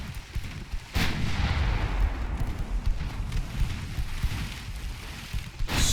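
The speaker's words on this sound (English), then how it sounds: "What's a holiday without a little bit of naval artillery fire?" Naval artillery fire in the warship game Ultimate Admiral Dreadnoughts, including 5-inch guns: two sharp heavy gun blasts open and close a dense, rumbling stretch of distant shelling and explosions.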